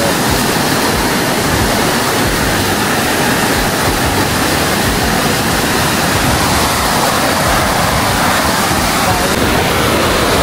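Loud, steady rush of churning water fills the whole stretch, a constant roar like a river pouring through rapids close by.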